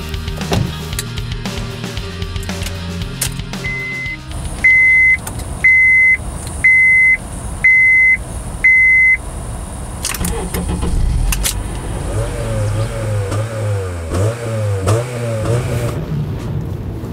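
A ten-year-old Honda Accord with a 2.4-litre engine, its catalytic converter likely cut out. Keys jingle and a chime beeps steadily, then the engine cranks and starts, and it revs and accelerates away with a rising, shifting tone.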